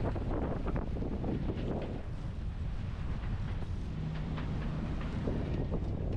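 A brand-new sailboat sails along at about 7.5 knots, with steady, rumbling wind buffeting close to the microphone throughout.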